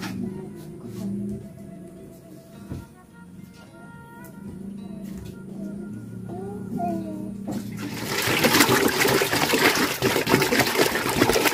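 Water is poured into a pot to be boiled for cooking in a rural Sundanese village home. A steady, loud gush of pouring follows a stretch of quieter sounds with voices talking.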